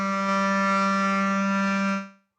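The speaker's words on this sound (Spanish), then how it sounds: "Ese es el sonido de un clarinete." A recorded clarinet holds one steady, sustained note with a rich, reedy tone for about two seconds before cutting off cleanly, clear and unaccompanied.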